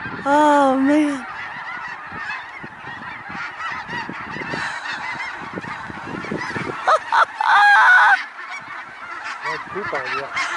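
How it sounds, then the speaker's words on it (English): Geese honk repeatedly at close range in the Bosque, loud overlapping calls in bursts, the strongest near the start and again toward the end, with a little talk in between. "Here come geese."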